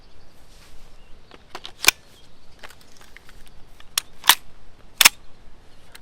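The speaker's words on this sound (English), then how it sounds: "let's shoot off the television next. Caliber 43 up first. 2 shots of the normal variant and then 2 shots of the S-type variant" Rubber steel ammo, caliber .43, fired at a television in a shooting test: four sharp, crisp cracks spaced apart over a faint background hiss, with no talking.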